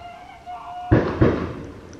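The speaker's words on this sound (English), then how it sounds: "You don't like the New Year's fireworks?" New Year's Eve fireworks set off early before midnight go off as two sharp bangs in quick succession, nearby and loud against a quiet indoor background.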